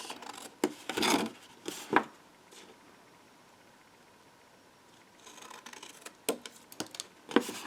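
Scissors snipping through paper or card for a box tutorial, a few short crisp cutting bursts near the start and end with a quiet pause between, close and alone.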